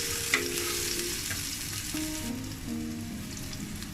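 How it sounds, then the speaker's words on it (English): Crushed garlic and chili flakes stirred in hot oil in a frying pan, a steady close sizzle with scraping stir sounds throughout, no voices. "Then add crushed garlic and stir it for 60 seconds"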